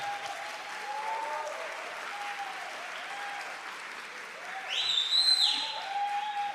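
Applause from an audience at a São Paulo state legislative honor ceremony, steady clapping throughout with a brief swell near the end.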